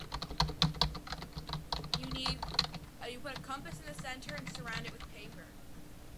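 Computer keyboard keys clattering in rapid, uneven bursts during a Minecraft survival play session, close and fairly loud, with someone talking over the typing.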